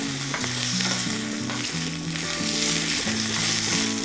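Curry leaves and a couple of green chillies hitting hot oil for a tempering in a radish salad recipe, a steady loud sizzle and crackle with stirring throughout, no talking.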